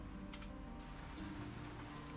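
Rain falling in a trucking simulator game, a soft, steady patter mixed with a low engine hum, fairly quiet and without voices.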